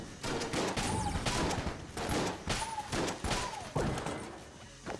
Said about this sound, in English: Particulator shotgun.